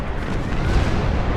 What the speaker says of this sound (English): that last spread of photon torpedoes dealt with them